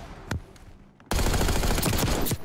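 Video game gunfire in a first-person shooter match: a couple of sharp single shots, then a sudden dense burst of rapid automatic fire that stays loud and close to the end.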